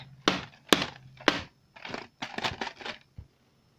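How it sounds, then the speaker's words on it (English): A plastic toy box is banged against a hard floor several times, giving sharp irregular thuds and rattles with short pauses between hits. "I'm gonna get this open by dropping it on the floor"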